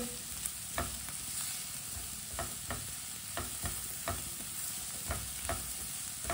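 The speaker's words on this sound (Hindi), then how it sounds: "आधी चमची नमक, आधी चमची हल्दी पाउडर। अच्छी तरह मिक्स कर लेंगे।" Vegetables with salt and turmeric tossed in a hot pan, a low continuous sizzle under a regular series of soft spatula scrapes and taps, close and moderately quiet.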